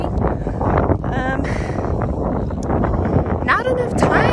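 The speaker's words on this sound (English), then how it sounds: "It's pretty windy today." Outdoor wind on a blustery day, heard as loud rumbling gusts buffeting the microphone, continuous and close, with some faint chirping sounds on top.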